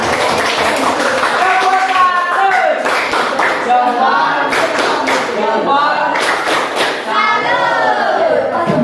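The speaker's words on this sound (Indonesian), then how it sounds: "tepuk tangan semuanya" A classroom of students claps hands in uneven bursts, loud and close, with voices and chatter mixed throughout the clapping.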